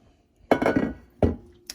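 A glass 8 by 11 inch baking pan is set down on a hard surface, making a clattering clink followed by a second sharp knock about a second later, close and fairly quiet.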